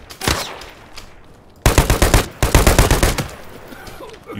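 Automatic gunfire from a shooter in the video game Arena Breakout Infinite, fired at scavs: a short burst early, then two loud rapid strings of shots close up, each about a second long, trailing into faint game ambience.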